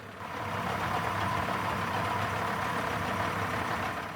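A Yamaha 90 outboard boat motor idles steadily with a constant low rumble and no variation, close by and running alone without voices, after its gaskets were replaced.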